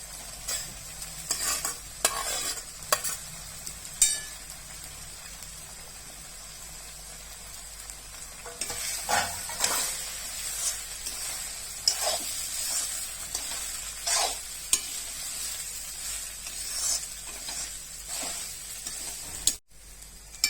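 Cooked, lightly salted rice for veg fried rice is tossed and stirred in a hot pan, giving a steady sizzle broken by repeated scraping and clattering strokes of the spatula, near and fairly loud.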